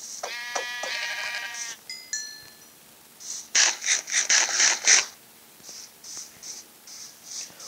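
Minecraft sheep bleat several times in a row, close and fairly loud, with short gaps between calls and a few quieter bleats trailing off at the end.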